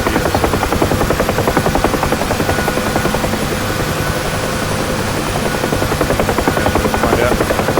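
A UH-1H Huey helicopter in the DCS flight simulator runs steadily and loudly, its rotor chopping in a fast, even rhythm under a constant turbine whine, with no pauses.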